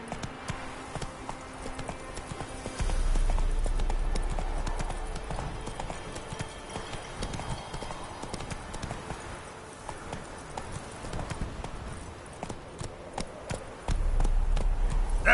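Roach the horse gallops in a video game, hooves clip-clopping in a steady rapid rhythm that swells louder in bursts near the start and end, with no talk over it.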